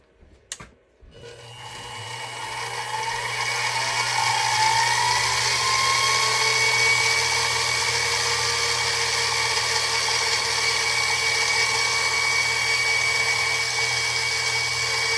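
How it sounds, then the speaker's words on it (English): A drill spins up after a brief click and bores handle holes in a knife blank, holding a steady high-pitched whine with a faint shifting tone for over ten seconds, close and loud, with no talk. "the process of drilling these handle holes. It's not much, it's just drilling holes."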